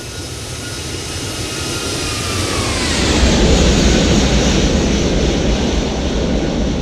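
An airliner jet in X-Plane 12 makes a close flyby, a broad roaring rush with a whining tone that drops in pitch as it passes, building louder through the middle and holding steady to the end.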